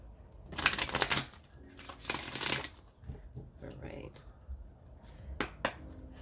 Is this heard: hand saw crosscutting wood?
no